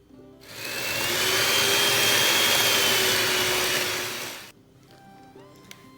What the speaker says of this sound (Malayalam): നമുക്ക് ട്രോപ്പലൈറ്റിൻ്റെ വിപ്പിംഗ് ക്രീം ഒന്ന് ബീറ്റ് ചെയ്തിട്ടെടുക്കാം.